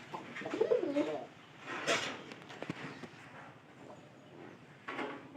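A pigeon coos softly nearby, a few low throaty calls with quiet rustles and knocks in a still room.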